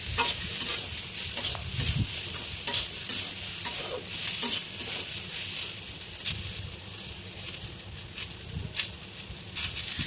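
Green peas stirred into hot oil while frying for a vegetarian paneer pulao, giving continuous crackling sizzle with repeated spatula scrapes and stirring strokes, close and fairly loud, no talking.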